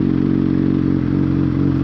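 A stock Honda CBR600F sport motorcycle engine runs steadily at low revs, a close, even mechanical drone with faint clatter and no voices.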